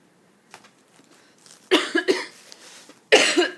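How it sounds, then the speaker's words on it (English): A few soft sounds, then two bursts of coughing close to the microphone, the second cough sharp and loud. "Excuse my cough."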